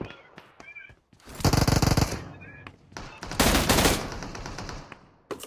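Automatic gunfire from PUBG Mobile, with two loud sustained bursts of rapid shots and scattered single cracks in between, arriving close and from more than one direction.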